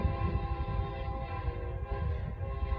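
Norfolk Southern freight train NS 282 on the Charlotte District, heard up close as a continuous heavy rumble with steady tonal engine drone and rattling wheels, loud and unbroken throughout.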